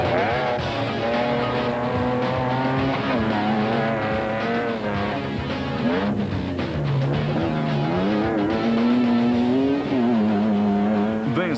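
A Castrol Toyota Hilux rally car races through the Carnival City 400 in 2007, its engine revving loudly with rising and falling pitch as it accelerates and shifts, close and continuous with no talk.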